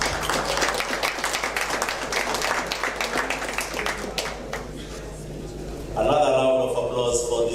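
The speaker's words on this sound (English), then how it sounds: "Another round of applause for this choir." An audience applauds a University of South Africa choir at a parliamentary forum, with steady clapping under a voice that then fades out as speech takes over.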